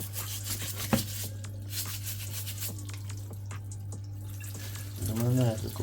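Seafood being rinsed for a seafood boil under a running kitchen tap gives a steady, fairly quiet stream of water with rubbing and splashing over a low hum, and a voice talks briefly near the end.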